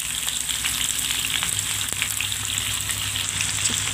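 Raw banana pieces fry in a pan as ground paste is added, with a loud continuous close sizzle and crackle throughout, broken by a few faint clicks.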